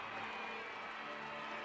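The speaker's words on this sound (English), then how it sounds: "you can hear the welcome from the crowd" A large crowd outside a royal wedding greets Princess Anne and her groom, a dense, steady wash of distant cheering and applause.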